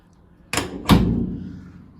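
A classic Mini's door being worked after an engine swap: two sharp thuds half a second apart, the second a heavy, booming close that rings on and slowly fades, loud and close with no talking.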